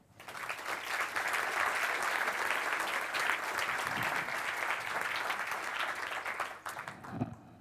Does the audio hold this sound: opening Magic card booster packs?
no